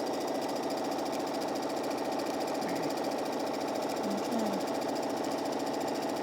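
A sewing machine stitches a quarter-inch seam joining two quilting fabrics, its steady rapid mechanical whirring running continuously and fairly loud at close range, with no talking.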